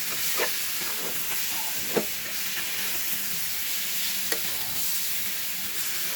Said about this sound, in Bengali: মশলাটা কষানোর পরে দিয়ে দিলাম ভাজা মিষ্টি কুমড়া আর চিংড়ি মাছ। এটা একটু সুন্দর করে কষাবো